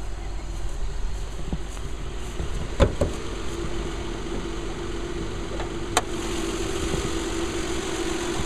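The 3.5-liter V6 engine of a 2010 Hyundai Santa Fe SUV idles steadily with a low, even hum, broken by a couple of sharp clicks; no one speaks.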